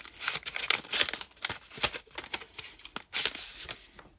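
Crisp rustling and tearing of a small paper envelope of honeybush tea being opened up close, in irregular bursts of crinkling and ripping with short pauses between.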